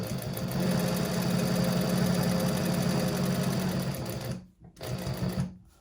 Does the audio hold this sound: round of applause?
no